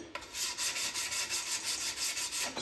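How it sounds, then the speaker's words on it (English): Rhythmic rasping strokes bevel the edges of a wooden board for pinball parts, a quiet close scrubbing repeated at an even pace with no talk. "Giving the edges a little bevel"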